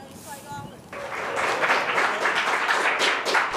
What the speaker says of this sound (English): Applause for a long-fought victory.